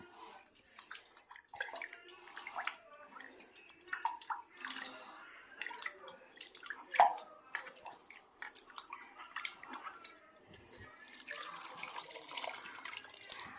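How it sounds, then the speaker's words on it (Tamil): Tamarind water trickles and splashes intermittently into a pot of fish curry, soft and close, with faint clinks and a steadier pouring hiss near the end. "லைட்டாக புளி தண்ணி ஊற்றிக்கிறேன் ஃப்ரெண்ட்ஸ்."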